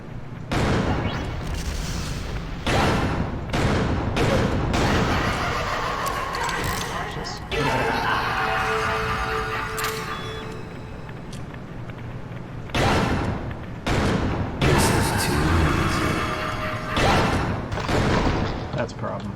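Explosions in the video game Killer 7 thump repeatedly, a series of heavy booms and bursts in a dense game soundscape, with a person talking over them throughout.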